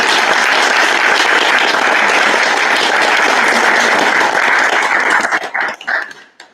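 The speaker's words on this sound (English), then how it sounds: "Let's give a round of applause for" An audience claps at the close of a discussion event: dense, loud applause holds steady, then thins into scattered claps and fades out near the end.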